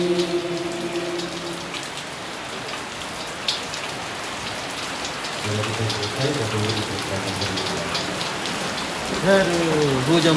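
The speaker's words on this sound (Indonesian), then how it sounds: "Aduh, hujan bosku. Hujan, waduh." Steady rain pours down in Surabaya, a dense, even hiss of drops spreading across the whole scene, with faint voices murmuring softly underneath.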